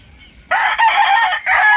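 A Kapsul bloodline gamecock crows loudly and close at a game farm in Tanauan City, Batangas, one long strained crow after a quiet moment, with a short break near the end.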